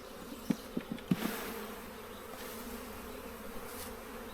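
A faint, steady buzz of honey bees fills the background, with a few soft knocks early on; no voices.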